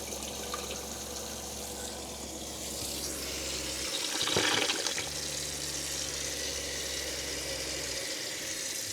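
Water running and filling the tank of a box van, a steady rushing flow with a low pump hum that cuts out briefly and then resumes, close and moderately loud.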